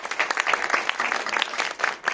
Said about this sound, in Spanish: le voy a pedir un fuerte aplauso para Florencia de la B